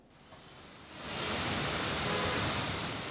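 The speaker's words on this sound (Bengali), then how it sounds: "বৃহস্পতিবার সকাল থেকেই রাজধানীতে ঝড়ো হাওয়ার সাথে ভারী বৃষ্টি।" Heavy rain with stormy wind pours over the capital city as a dense, steady roar that swells louder after about a second and stays constant.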